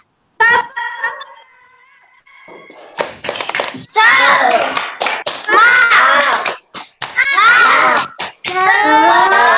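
A classroom of children performs a rhythmic spirit clap, sharp hand claps in patterned bursts mixed with loud chanting children's voices, following a teacher's brief instruction.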